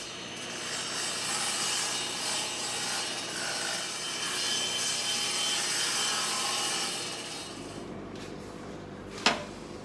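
A saw cuts through wood for dovetail tenons with a steady, loud, close rasping drone that runs for several seconds, then fades out, ending with a single sharp knock.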